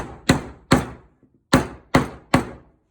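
Five sharp hammer blows driving a nail into a wooden birdhouse, struck in an uneven rhythm with short pauses, loud and close with no voices.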